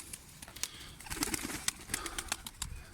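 Pigeons coo softly in low, throaty murmurs, mixed with faint chirps and wing flutters nearby, a busy flock sound with no talking.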